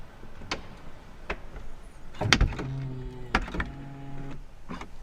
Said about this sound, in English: Nice little soft close there.